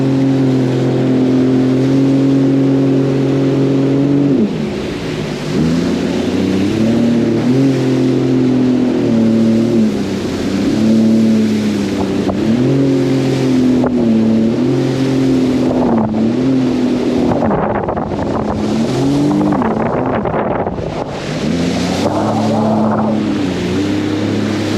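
A Sea-Doo FishPro Sport 170 jet ski running on open water during break-in, its engine droning loud and close with rising and falling revs, hull thumps and wind buffeting the microphone, no talk.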